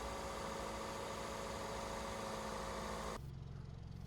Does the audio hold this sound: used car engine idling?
yes